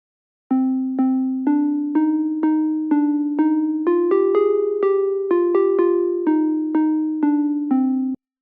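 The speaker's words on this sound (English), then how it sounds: "I've gone at the Juno 106, found the E piano tremolo preset," A clean electric piano from the Juno 106's E piano tremolo preset plays a slow sequence of evenly spaced, sustained chords, each note pulsing with a gentle tremolo wobble, heard alone without any voices.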